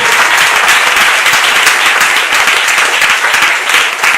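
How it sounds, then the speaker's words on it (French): A church congregation bursts into loud, sustained applause and cheering that fills the room evenly from start to finish, dense clapping with crowd voices mixed in. "Est-ce que quelqu'un peut acclamer puissamment et appeler le tout ici?"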